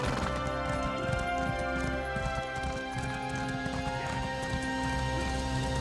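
A horse in a Summerset fantasy role-playing game clip-clops along in a steady trot, continuous hoofbeats layered over dense game music and ambience at an even, fairly loud level.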